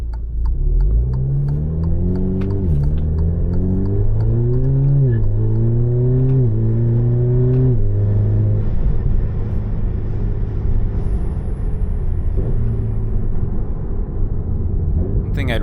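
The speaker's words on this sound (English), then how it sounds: "Okay, so now I'm in D mode and I'm going to pull away from the stoplight. Just partial throttle on this pull, definitely shifting quicker than stock." A Stage 2 tuned Alfa Romeo Giulia 2.0T pulls away from a stoplight at partial throttle. The turbo engine's rising drone is broken by quick upshifts, then settles into a steady cruise hum, with someone talking over it.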